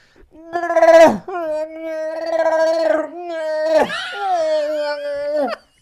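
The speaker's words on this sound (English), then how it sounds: "Oh, here comes the dog." A dog howls in long drawn-out wails, rising and falling in pitch, close and loud for several seconds with brief breaks between cries.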